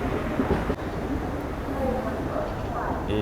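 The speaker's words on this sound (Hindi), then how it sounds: "एक ओवरटेक हुआ भाई टुंडला में।" A train overtaking at Tundla Junction railway station in India: a steady, loud rumble and rail clatter fills the whole stretch, without a break.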